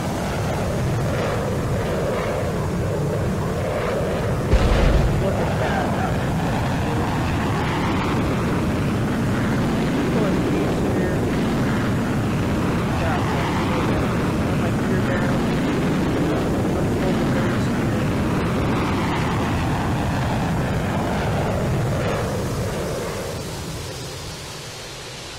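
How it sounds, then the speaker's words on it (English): A Roblox F-14 Tomcat jet in flight in a game, pushing past the sound barrier: a steady, loud, broad roaring rush of engine and wind noise that holds for about twenty seconds before tapering off, with no speech. "let's see if we can break the sound barrier."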